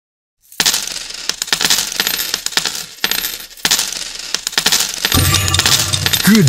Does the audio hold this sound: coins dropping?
yes